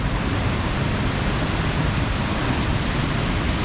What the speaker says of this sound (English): there is a taller waterfall right there.